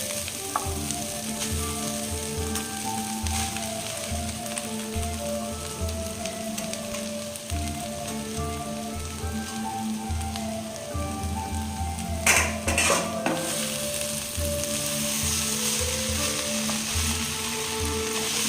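Chow mein noodles stir-fried in a pan, a loud continuous sizzle with rhythmic scraping and tossing throughout, a brief clatter of the utensil against the pan late on, no talking.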